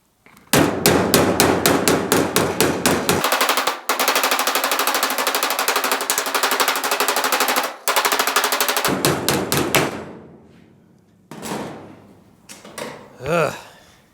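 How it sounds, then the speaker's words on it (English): Rapid, loud hammer blows on a GTO restomod's sheet-metal body panel during dent repair, fast rhythmic strikes in long bursts with brief pauses, then a few sparser metallic taps near the end. "So now we just have a little more body work to do here, a little more hammering"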